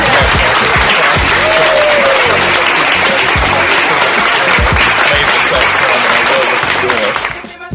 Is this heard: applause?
yes